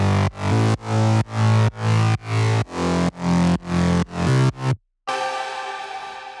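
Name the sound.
self-made synth bass layer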